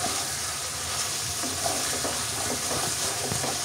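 Curry with sour yogurt frying and being stirred in a pan, a steady close sizzle with small scraping stirs throughout and no talk.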